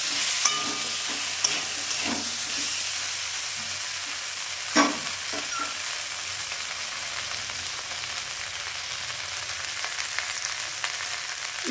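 Turmeric stirred into a sizzling Bengali fish curry in a pan, with continuous frying hiss, occasional spoon clicks and scrapes, and one sharper knock near the middle.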